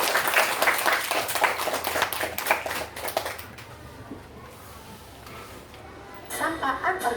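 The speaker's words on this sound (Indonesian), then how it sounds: "Tepuk tangan semuanya." A class claps hands in a lesson on organic and inorganic waste, a busy burst of clapping for about three seconds that stops abruptly, then quiet room tone before a short return of noise.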